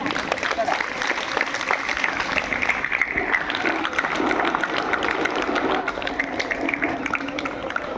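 An audience at a Republic Day celebration claps in a steady, dense patter throughout, with a low background hum beneath the applause.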